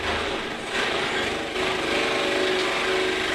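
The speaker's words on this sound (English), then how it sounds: "What is that fucking jackhammer sound?" Harsh, continuous power-tool-like rattle in the manner of a jackhammer, loud and close, grinding steadily without pause for the full stretch.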